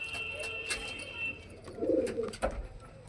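Pet pigeons in a home cage coo softly in low, rolling phrases, with scattered bird chirps and light background noise.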